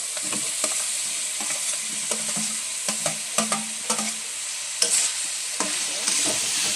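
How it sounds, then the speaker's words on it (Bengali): Potato and cauliflower pieces, already fried, sizzle and are stirred in a pan of hot oil, with a steady frying hiss broken by repeated scraping stirs from a spoon, close up and alone without speech. "তেল থাকছে, আমি কপি ভাজা আলু কপিটা আবার দিয়ে সাঁতলিয়ে দেবো।"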